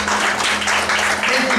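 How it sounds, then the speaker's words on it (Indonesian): Audience applause in a church during a sermon, a steady wash of clapping at even loudness throughout, with a faint low hum beneath. "Tepuk tangan buat Yesus."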